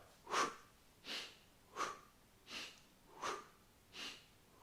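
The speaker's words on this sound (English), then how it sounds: "Breathing in and exhale." Slow, steady breathing during a floor-based whole-body movement exercise: six soft, airy breaths spaced evenly about every 0.7 seconds, close and quiet, with no talking.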